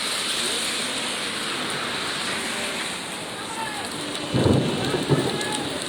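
A thunderstorm with heavy rain over Alexandria, Egypt: a loud, steady downpour roars throughout, then a deep rumble of thunder breaks in near the end.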